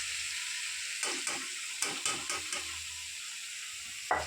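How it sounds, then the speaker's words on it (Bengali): Chicken pieces drop into a pan of cooked spice masala and sizzle steadily, with a few soft stirring scrapes and clatters spaced through the frying hiss. "এর মধ্যে এবার আমি চিকেনগুলোকে দিয়ে দিলাম"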